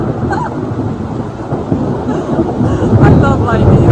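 Thunder rumbles through a lightning storm in rocky outdoor terrain, a steady low roar that swells louder toward the end, with a voice speaking faintly underneath.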